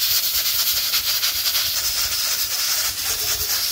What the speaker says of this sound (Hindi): ये कुकर देख के मुझे बताओ सही चल रहा है? ये इसकी सीटी सही नहीं घूम रही